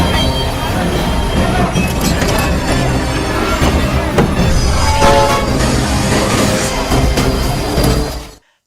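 Loud, continuous rumble and clatter of a moving train in an Indian action film, dense and close, with metallic clinks and a faint horn-like tone before cutting off.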